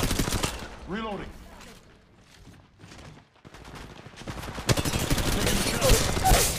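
Gunfire from a battle-royale shooter, Apex Legends Mobile, with dense bursts of rapid shots at the start and again near the end, a quieter gap in between, and speech layered over the action.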